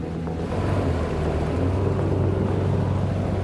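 A gold mining boat's outboard motor strains near failure, a steady low drone blended with wind and splashing water outdoors.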